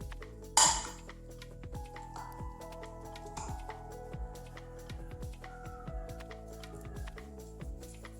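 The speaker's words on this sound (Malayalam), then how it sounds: "അപ്പം ഇനി ഇത് നമുക്കൊരു മീഡിയം പീസസ് ആക്കി കട്ട് ചെയ്യാം." A knife cutting peeled potatoes into medium pieces, heard as a quiet, steady series of light taps and clinks with one sharper clatter near the start.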